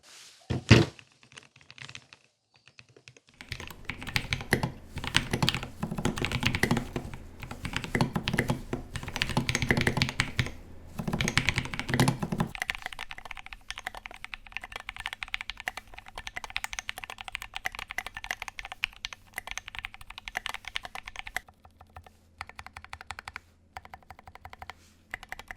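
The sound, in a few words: typing on a homemade metal mechanical keyboard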